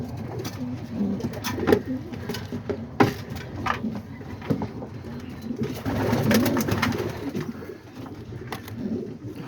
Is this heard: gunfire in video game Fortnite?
no